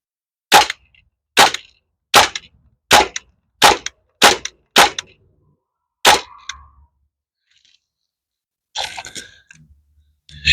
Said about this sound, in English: Continue that single shot, shooting at the jug